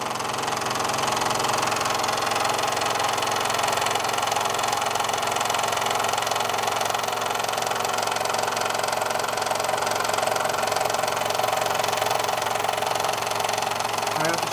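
A 1935 Doll toy steam engine runs nonstop with a rapid, even mechanical chugging and whirring, close and loud, while a voice talks over it.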